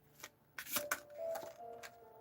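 Tarot cards being shuffled by hand, a quiet, close series of soft riffling flicks and slaps in a few short bursts, with faint background tone.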